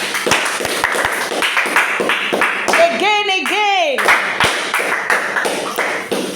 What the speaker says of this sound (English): Clap for Juan.